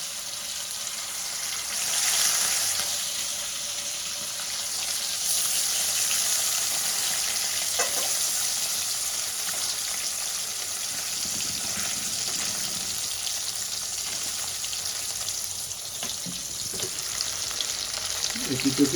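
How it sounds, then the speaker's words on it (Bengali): Pieces of katla fish fry in hot oil, giving a steady, fairly soft sizzle that runs the whole time, with occasional light clinks and a slight swell early on. "এবার মাছগুলো আমি এক এক করে লাল লাল করে ভেজে নেব।"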